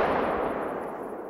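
A single rifle shot in a hunting video game fires at the start, followed by a broad, fading echo that decays over about a second.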